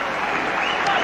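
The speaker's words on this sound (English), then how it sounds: "acknowledging the applause there, not the sort of applause you might associate with an Indian half-century, but certainly the Pakistanis here are giving him a big cheer" A cricket crowd of Pakistani supporters applauding and cheering a batsman's half-century at a 1998 one-day international, a dense continuous roar of clapping heard from a distance, with commentary over it.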